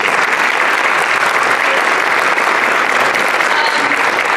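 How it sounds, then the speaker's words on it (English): Loud, dense applause from a theater audience at a reunion honoring a former member, steady uninterrupted clapping filling the hall for several seconds. "let's give her a round of applause"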